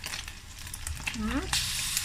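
Red chili sambal lado sizzles loudly in a pan with fried rice, a steady close crackle with stirring scrapes, and a brief voice cuts through partway.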